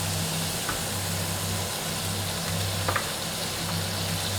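Garlic frying in oil in a wok for mapo tofu, a steady even sizzle held throughout with a couple of faint clinks, close and alone.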